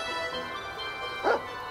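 A dog in the Watch Over Christmas video game gives a single short bark near the end, faint against a low steady background hum.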